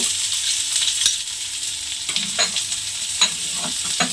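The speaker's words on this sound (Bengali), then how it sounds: "এবারে পেঁয়াজটাকে একটু লাল করে আমি ভেজে নেব" Chopped onion fries in a pan with a close, steady sizzle, broken by sharp clatters and scrapes as it is stirred.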